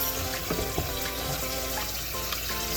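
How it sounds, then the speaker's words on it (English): Oxtails rinsed in a bowl under steadily running tap water, a continuous close splashing wash with small sloshes as the meat is handled, no one talking. "You rinse them out a little bit."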